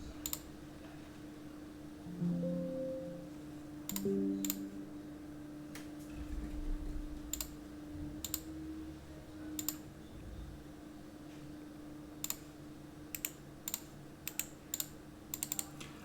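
Sharp mouse clicks while playing Old School RuneScape in a Tombs of Amascut raid, scattered singly and in quick pairs over a low steady game hum, close and crisp with no talking.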